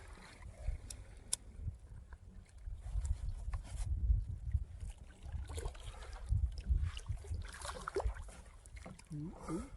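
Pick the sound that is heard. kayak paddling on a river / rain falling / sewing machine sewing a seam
kayak paddling on a river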